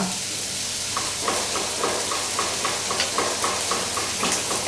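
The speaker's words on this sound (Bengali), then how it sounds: "এখন এটাকে একটু ভাজি" Loitta dried fish frying in a pan with chilies, salt and turmeric powder gives off a steady sizzle, with rhythmic stirring scrapes recurring roughly every half second close by.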